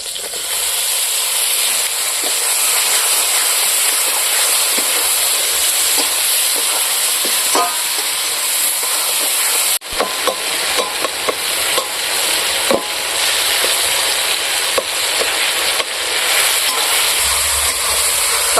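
Chopped tomatoes and onions fry in a pan with Kashmiri chili powder for a village-style fish curry. A loud, continuous hiss and crackle fills the clip, broken by scattered sharp clicks of stirring.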